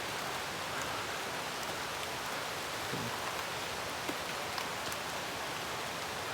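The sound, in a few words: heavy rain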